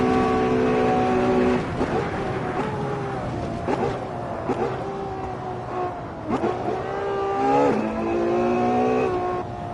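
A race car engine screams at around 220 mph in the 2014 original Assetto Corsa racing game, a loud sustained high-revving whine with pitch dips at gear shifts, heard alone.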